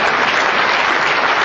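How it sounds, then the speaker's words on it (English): An audience at a talk breaks into applause, a dense, loud burst of many hands clapping together that carries steadily through the whole brief moment. "I hope you're applauding the story, not me."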